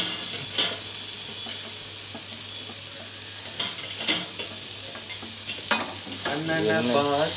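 Tomatoes and carrot sautéing in a pan for a sandwich gravy, a soft continuous sizzle with scattered spatula scrapes and clinks, growing busier toward the end, no talk.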